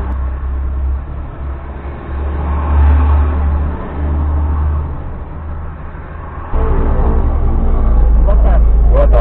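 A taxi driver's car being moved in the street while a tow truck waits, a close engine rumble that rises and drops as it shifts, with a sudden louder low drone near the end and voices talking over it.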